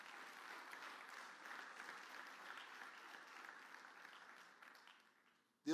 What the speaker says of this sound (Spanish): denle fuerte ese aplauso al Señor